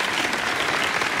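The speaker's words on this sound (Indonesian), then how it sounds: "Oke tepuk tangan dulu." Studio audience at a televised singing contest clapping in a brief, dense burst, steady and fairly loud.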